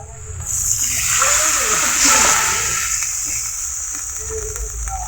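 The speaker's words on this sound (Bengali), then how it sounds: "এখন দেওয়া হচ্ছে পানি" Water is poured into a hot pan of spiced onion base for koi (climbing fish) curry, a continuous splashing hiss lasting several seconds with a faint sizzle underneath.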